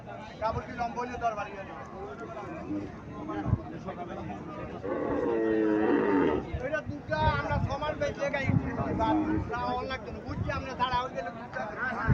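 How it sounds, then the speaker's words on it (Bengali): A large Mundi breed cow moos in a deep, drawn-out call partway through, surrounded by busy outdoor noise and people talking nearby. "খুব বড় সড়ো গরু এটা।"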